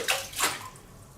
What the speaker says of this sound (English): I'll just drop a rock in there for the hell of it.